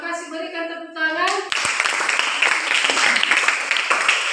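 After a speaking voice, a classroom audience breaks into brisk, close applause for group 4 following their presentation, many hands clapping continuously until the end.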